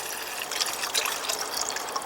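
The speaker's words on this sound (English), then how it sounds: "I'm going to pour a little bit of water into the bush pot here." Water poured from a container into a metal bush pot, a soft continuous trickling splash lasting about two seconds, close by and fairly quiet, with no talking.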